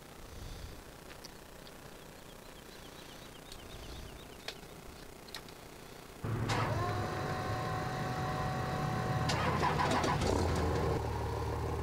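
A lifted Cummins truck engine in Farming Simulator 2015 cranks and starts, cutting from quiet background noise to a steady, deep idle that stays loud and even, with a brief rise in revs near the end.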